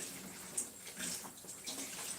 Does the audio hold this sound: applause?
no